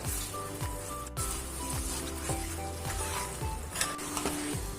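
Beef pieces sizzling in a pan over a medium flame during preparation of a Kerala-style beef curry, a steady crackling hiss with repeated stirring scrapes throughout, moderately close and with no talk.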